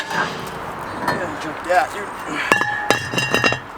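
Sharp metallic clanks ring out from a hammer striking an old brake rotor on a Toyota 4Runner, a quick cluster of ringing hits near the end after some quieter knocks, with someone briefly speaking.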